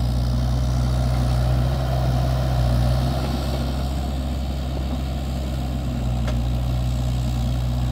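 A Kubota KX161-3 mini excavator digging out a eucalyptus stump, its diesel engine droning steadily and loudly close by with a constant low hum throughout.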